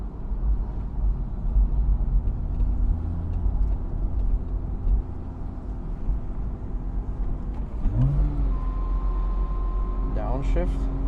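A 2006 Porsche Boxster engine hums steadily from inside the cabin as the car drives along, a low continuous drone with a brief rise near the end, while road noise runs underneath throughout.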